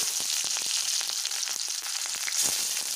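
Steady, loud sizzling of onions frying in hot oil, with crackles and pops scattered throughout.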